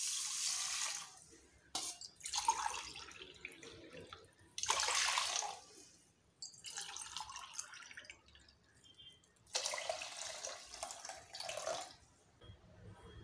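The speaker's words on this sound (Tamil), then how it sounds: "இப்போது 3 கப் வாட்டர் வந்து நான் ஆட் பண்ண போகிறேன்." Water is poured into a pressure cooker holding a samai (little millet) and vallarai pongal rice mix, heard as several separate bursts of splashing and trickling, each lasting a second or two, with quiet gaps between them.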